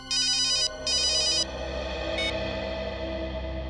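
A telephone rings in two clear electronic bursts, loud and close over a steady musical background bed, followed by a brief higher chirp; no one speaks.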